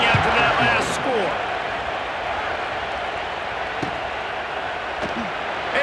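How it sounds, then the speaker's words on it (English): A stadium crowd in an American football video game keeps up a steady, dense roar of cheering after a score, loud and continuous, with a commentator's voice talking over it. "this crowd is buzzing after that last score"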